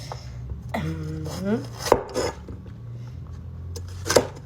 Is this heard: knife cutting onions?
yes